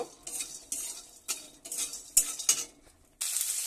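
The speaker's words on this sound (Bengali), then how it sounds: "বড়িটা ভেজে নিচ্ছি কড়াইতে তেল দিয়ে।" Lentil dumplings (bori) frying in oil in a wok, a steady sizzle broken by repeated scrapes and stirs of a utensil against the metal, close and moderately loud, with no voices.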